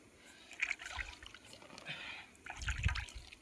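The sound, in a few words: sprinkling water onto manure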